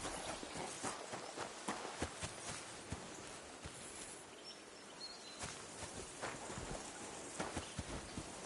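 Steady hoofbeats of horses in the video game Kingdom Come: Deliverance II clip-clop at an even trotting pace over a noisy outdoor background, fairly faint and continuous.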